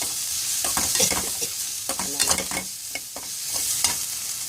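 Vegetables sautéing in a pan for a Sundakkai poriyal, with a steady close sizzle under repeated scraping and clattering strokes of a stirring spoon; no talking.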